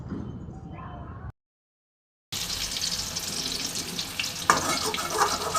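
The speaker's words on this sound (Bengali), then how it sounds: "এবার এই পিঠটাও আমি খুব সুন্দর করে ভেজে নেব," Eggplant slices frying in oil in a pan for a garlic eggplant dish: a soft bubbling sizzle, cut off by a brief silence, then returning denser and louder with light crackles and a scrape or two.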